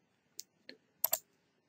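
Four sparse, faint key clicks on a computer keyboard while entering values into a spreadsheet, the last two coming in a quick pair amid near silence.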